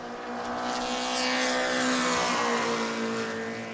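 A modified Mod Mini race car engine running a qualifying lap at New Smyrna Speedway, a loud, sustained, buzzing engine note that swells and fades slightly as the car passes, with no talk over it.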